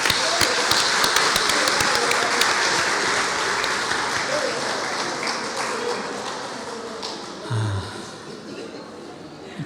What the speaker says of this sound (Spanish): Bueno, vamos a aplaudirle.